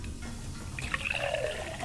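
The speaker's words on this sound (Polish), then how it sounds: "włączyć wodę." Tap water turned on in the Mother Simulator video game: a short splashing, trickling flow over a low background hum, close and moderately quiet, with no talk during it.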